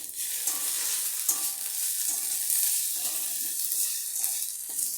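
Ginger paste hits hot mustard oil with onion and garlic already fried in the pan, making a steady, close crackling sizzle with faint scrapes of stirring throughout.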